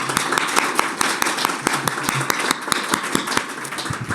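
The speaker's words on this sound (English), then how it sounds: "I hope you'll join me in a big hand of applause" Audience applause at a live-streamed National Health and Fitness Day Canada event after speakers' presentations, a dense steady patter of many hands clapping throughout at moderate level.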